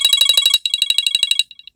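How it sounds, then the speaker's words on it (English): An iPhone XR plays its Beacon ringtone: a fast, evenly pulsing series of bright electronic beeps, loud and near, thinning into a few fading pulses at the end. "Beacon"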